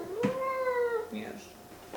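A kitten lets out one clear, drawn-out meow close by, followed by a shorter, softer chirping mew, with faint room noise around it.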